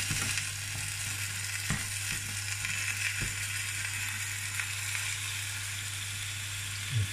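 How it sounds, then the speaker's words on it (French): Food sizzling while it fries in a hot pan, a steady crackling hiss with occasional clinks of stirring and no talk. "Donc là, on sent que ça grésille gentiment."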